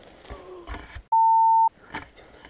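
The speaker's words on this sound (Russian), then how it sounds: "Так разговариваешь, мне придется пикать." Steady electronic censor bleep lasting about half a second, loud and clean, cutting into casual Russian conversation between two people on a hike near the Yuraktau shikhan mountain; talk continues before and after.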